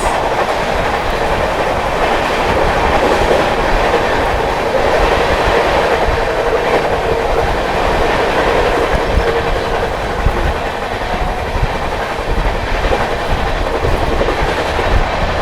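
Mahabodhi Express running through Chunar Junction without stopping, a loud, continuous rumble of the moving train with steady rail clatter throughout.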